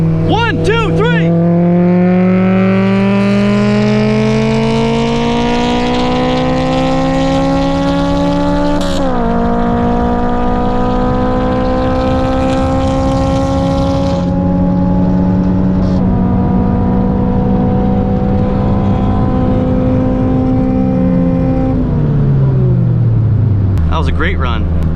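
A Honda Civic Si pulls hard through fourth gear, engine drone rising steadily in pitch across the run with a brief dip, loud and close from inside the cabin, with voices talking over it.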